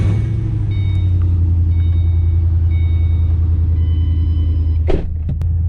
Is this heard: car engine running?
yes